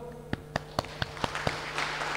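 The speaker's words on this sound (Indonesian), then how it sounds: "Kasih tepuk tangan dong." A handful of slow, separate claps ring out in a church congregation, evenly spaced and fairly close, over a faint steady hum, thickening into scattered clapping at the end.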